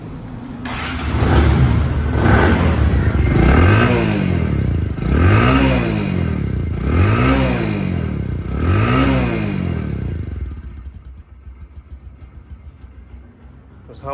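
A second-hand Bajaj Discover 110cc motorcycle with low mileage runs close by, loud and steady, blipped into about four rhythmic revs before settling back to a quieter idle.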